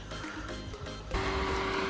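Outdoor rumble in Goa, India, gives way about halfway through to the steady tonal hum of an electric pump lifting river water for irrigation beside a private house. The hum then holds even and fairly close, with no voices.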